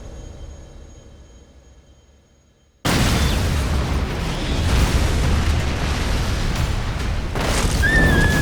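A loud explosion in an Attack on Titan anime scene bursts in suddenly after a quiet opening, then roars and rumbles on steadily with debris-like crackle, alone without voices.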